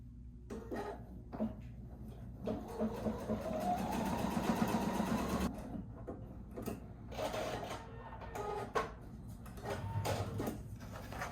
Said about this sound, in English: take it up under our machine and go ahead and start sewing